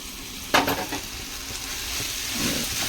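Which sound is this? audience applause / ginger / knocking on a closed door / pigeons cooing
ginger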